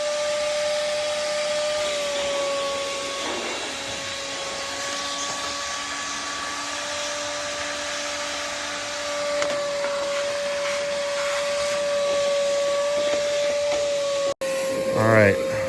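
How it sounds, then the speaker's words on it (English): A vacuum cleaner cleans out an air conditioning unit, running steadily with a whining tone and airy hiss, close by, before cutting off abruptly near the end. "Why don't you put that on the vacuum head and vacuum it out?"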